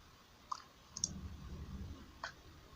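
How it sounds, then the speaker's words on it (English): Two or three quiet, sharp mouse clicks on a computer, spaced apart over a low, soft background hum. "To get started, click the Home button."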